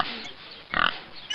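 A pig gives a single short, fairly loud oinking grunt midway through, with faint background noise around it.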